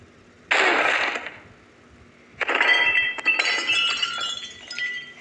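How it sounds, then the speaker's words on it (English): Glass breaking in two bursts, first a sharp crash, then after a pause a longer shattering with clinking shards scattering and tinkling, fairly loud with no talk. "B just broke the glass."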